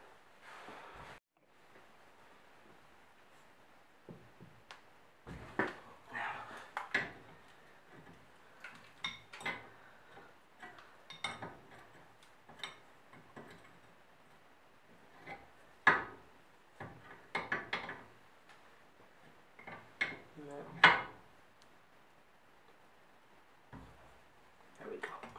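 Clunks, taps and metallic clicks come in irregular bursts as a Honda Bros NT400 rear shock absorber, its internal damper disintegrated, is clamped in a bench vise and worked open, close and fairly quiet against a still workshop.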